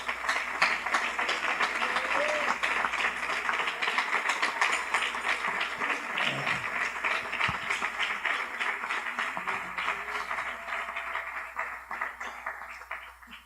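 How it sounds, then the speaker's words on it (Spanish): Church congregation at a worship service applauds in a long, dense, even burst of clapping that thins and fades toward the end, with no speech. "un aplauso al Cristo de la gloria."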